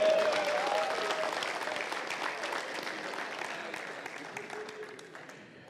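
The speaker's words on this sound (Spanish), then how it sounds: "Vamos a darle un aplauso más fuerte a él." Enthusiastic applause from a church congregation during a pastor's sermon, dense clapping that starts strong and gradually fades toward the end.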